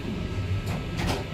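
Koenig lift doors built in 2006 sliding shut in a lift in Bishops Stortford, a low rumbling slide with a soft thud near the end, heard close and without speech.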